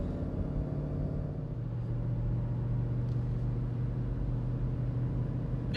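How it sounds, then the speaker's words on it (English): Supercharged Jeep Trackhawk engine, a rare green one, droning with a low, steady intake roar and hum, fairly even and close, no voices over it. "You can hear that intake. It's just so loud."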